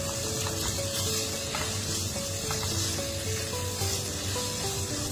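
Beef coated in masala and tomato sauce is stirred in a pan, giving a dense, even sizzle with soft scraping stir strokes throughout and no voices.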